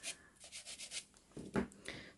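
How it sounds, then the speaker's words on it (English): Gel nails filed along the free edge: short, soft rasping strokes in a quick even series, then a few firmer passes, close and fairly quiet with no talking. "I'm just going to gently file the free edge on them all just to get rid of that little lip."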